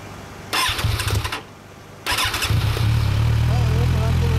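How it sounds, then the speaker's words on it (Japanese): A 2014 Kawasaki Ninja 1000 (Z1000SX) with a Yoshimura exhaust cranks, briefly catches and dies, then starts again and settles into a loud, steady idle close by. "エンジン音聞かせてもらえる？"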